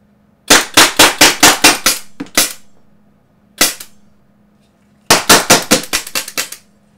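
Loud, sharp CO2 airgun pistol shots fed from a plastic magazine, fired in a quick string of about seven, then two single pops, then another fast string of about six, each crisp crack standing alone with no talking.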